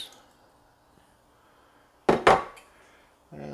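Rice and canned diced tomatoes tumble into a pot in two quick, close splashes with a clatter, after a quiet stretch of faint background hiss, then another sound starts at the end.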